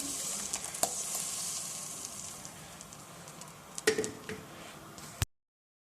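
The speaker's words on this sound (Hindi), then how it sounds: "3 टेबलस्पून जो ये वो ले लिए है ऑयल। इसके अंदर हम 2 अदद टमाटरों की प्यूरी शामिल कर देंगे।" Tomato puree sizzles in three tablespoons of hot oil, a close, continuous hissing fry with a few sharp spatters before the sound cuts to silence.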